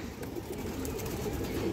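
A female pigeon coos steadily from close by, a low throaty murmur that carries on throughout without a break.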